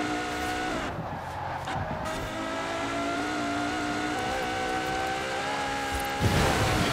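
A race car engine in Forza Horizon 4 holds a sustained, loud, rising whine through the corners, with a brief dip in the first second and a harsher surge at the very end.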